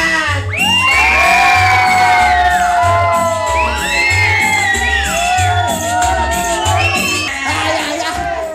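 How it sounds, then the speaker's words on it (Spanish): An excited audience at a clown show shouts, whoops and cheers continuously over pounding party music with a repeating bass beat, high voices rising above the loud, dense crowd noise. "Míralo de este lado, como gritan, aplauden y chiflan."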